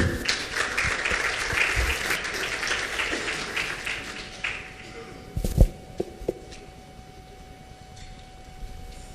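An audience applauds an award recipient at a French-language ceremony in Haiti, with dense clapping for about four seconds that thins to scattered claps and a few thumps.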